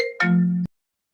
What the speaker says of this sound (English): I'm just going to move this phone to another room because I haven't succeeded in shutting it off and it's ringing again